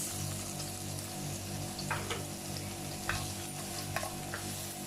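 Chopped onion and green chilies sautéing in butter give a steady close sizzle, with a low hum underneath and a few soft spoon scrapes against the pan.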